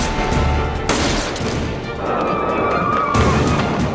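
Sniper gunshots ring out at a tense Korean drama ceremony, a few sharp loud cracks with echoing tails over a busy, noisy background.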